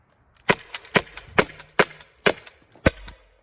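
Six sharp, loud cracks from a Byrna SD air launcher firing a clip of rounds, spaced roughly half a second apart with short echoing tails and no talk.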